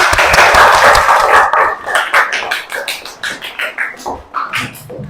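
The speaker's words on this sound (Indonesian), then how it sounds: "Tepuk tangan dulu." Students in a classroom clap together, a dense burst that thins into scattered, rhythmic claps fading toward the end, close and moderately loud.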